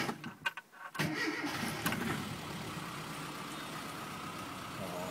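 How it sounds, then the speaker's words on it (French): A 1995 Mini Cooper SPi starts with a short cranking burst, catches, and settles into a steady idle at close range. "On entend la pompe à injection."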